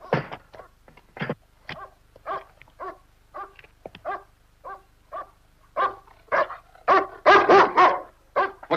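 A dog barks in a series of short, sharp, close bursts, spaced irregularly and growing louder and denser toward the end, with no talking over it.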